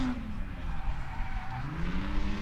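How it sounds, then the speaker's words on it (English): A stock-power drift car at a street league event hammers down with a hefty clutch kick, the engine droning steadily with rising revs while the tires squeal continuously, heard from a moderate distance throughout. "Nice hefty clutch kick there."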